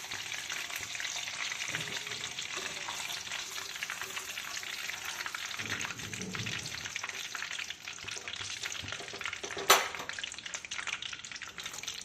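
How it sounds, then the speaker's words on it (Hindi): Raw mango pieces frying in a small amount of hot oil give a steady, close sizzle with light stirring and one brief sharp clink near the end, without speech. "इसी थोड़े से गर्म तेल में हम इस कैरी को सेक लेंगे।"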